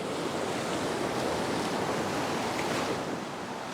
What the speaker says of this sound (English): well out beyond the breaking waves